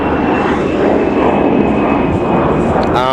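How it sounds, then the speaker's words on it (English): A Delta airliner takes off near a Los Angeles construction site, its jet engines making a loud, continuous roar that fills the whole span, with someone talking faintly underneath. "I hear another airplane taking off."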